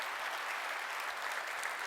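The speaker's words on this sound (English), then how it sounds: "Let's give them a big round of applause." Audience applause at a tech company conference livestream, a steady, even wash of clapping from a large crowd, heard from a distance and fairly quiet throughout.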